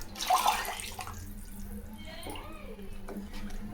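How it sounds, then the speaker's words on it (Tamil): Water poured from a cup into a pan of fish curry after rinsing the mixer jars, a short splashing pour near the start that fades into quieter kitchen noise. "இதில் இன்னொரு கப்பு தண்ணி ஊற்றிக்கலாம்."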